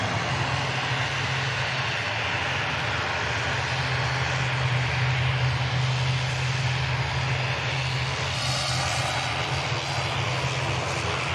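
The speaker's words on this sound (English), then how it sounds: "The next aircraft to arrive looks like it's going to be this EasyJet in from Jersey 320 Papa Victor" An EasyJet Airbus A320 jet airliner arrives at Manchester Airport, its engines giving a loud, continuous roar that holds steady through the pass, with a low hum beneath and no voices.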